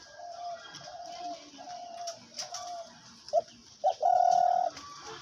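A hunting dove kept for sale gives a run of soft, evenly spaced coos, then two sharp short notes and one louder, longer coo, heard close with faint background noise.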